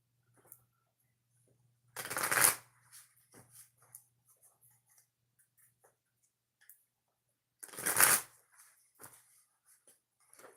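Deck of oracle cards shuffled in two brisk bursts a few seconds apart, each a loud riffling rush of card edges, with light taps and handling sounds between them and no talking.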